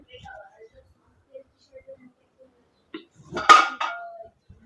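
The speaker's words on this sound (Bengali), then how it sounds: "বসাই দিলাম একটা কড়াই।" A metal kadai (wok) is set down on a home kitchen stove with one sharp, close clank that rings briefly, after a few faint, quiet knocks.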